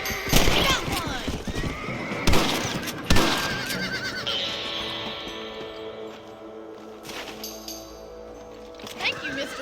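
A horse in the Western game Red Dead Redemption lets out a loud whinny near the start, with hoof clip-clop and other game sounds running underneath while voices talk.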